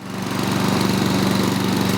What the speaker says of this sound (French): J'ai voulu acheter une tondeuse mulching